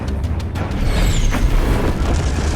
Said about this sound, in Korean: 괴물의 주의를 돌릴 폭죽을 터뜨리는 데 성공합니다